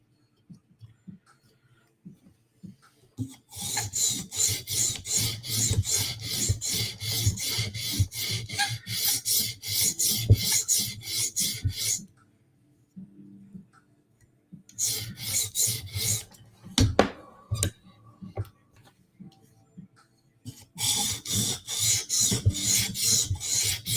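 Metal filing to reduce a burr: long stretches of steady, close rasping strokes, broken by a few quiet pauses and a couple of sharp knocks, then resuming.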